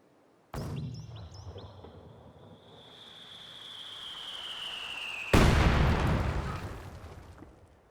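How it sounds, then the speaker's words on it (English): An artillery piece in Company of Heroes 2 fires with a sharp, loud boom, followed by a long descending whistle of the incoming shell and then a heavy explosion on impact several seconds later. "these different artillery pieces to fire a shell"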